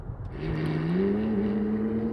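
A McLaren 720S and a 675LT at full throttle in a rolling race, one steady rising engine roar climbing in pitch over about two seconds, loud and close, with no talking.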